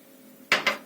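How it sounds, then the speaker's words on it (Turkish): Wire whisk striking a bowl while blending yogurt and flour, two quick clinking taps in succession, close and fairly loud over a quiet background. "çırpma teli yardımıyla güzelce karıştırıyorum. Un ve yoğurdu birleştiriyorum tamamıyla."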